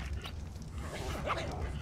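A bulb dog creature in the video game Ark: Aberration makes short whimpering, yipping dog-like calls over a continuous low game ambience, fairly quiet and close.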